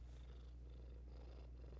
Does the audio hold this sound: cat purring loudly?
yes